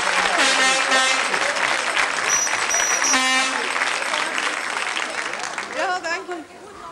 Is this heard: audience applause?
yes